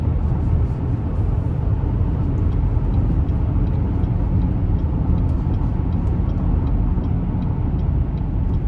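Inside a 2025 Cadillac XT5 2.0T turbo on the move, a steady low rumble of road and engine noise fills the cabin, dense and constant with no breaks.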